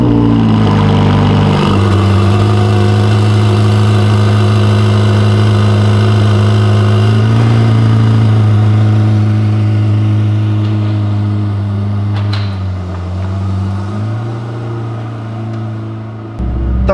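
Ferrari Pista engine droning steadily while driving on the road, a loud, close, sustained hum that dips slightly late on, with no talking.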